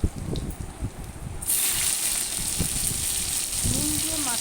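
Salted ash gourd pieces slid into hot oil in a home kitchen: a sudden bright sizzle bursts in partway through and holds steady, with a voice talking underneath.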